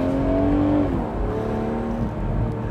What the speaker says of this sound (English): The way BMW's tuned the exhaust in sport mode anyway is it'll give you a little bit of pop and burble from time to time